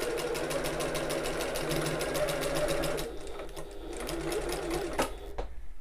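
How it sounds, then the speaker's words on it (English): A sewing machine stitching along the bottom of a tote bag, rapid even mechanical rhythm running steadily, then slowing and pausing with a few clicks near the end, a voice speaking quietly underneath. "And then increase my stitch length up to my longest stitch length,"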